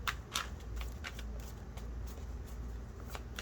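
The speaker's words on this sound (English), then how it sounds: "Just one more shuffle." Tarot cards shuffled by hand, giving soft, quick riffling clicks and brushes in an irregular rhythm, quiet and close with no voices.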